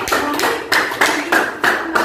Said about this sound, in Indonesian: Tepuk tangan untuk kita semua Bapak Ibu.